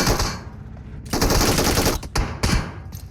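Automatic gunfire in the mobile game PUBG Mobile, loud close rapid bursts of shots in several strings with brief gaps between them.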